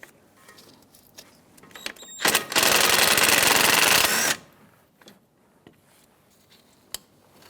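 A 10mm socket wrench loosens a front brake hose bracket on a 2000-2007 Ford Taurus. A few light clicks lead into a loud, rapid ratcheting burst of about two seconds, followed by scattered faint taps and one sharp click.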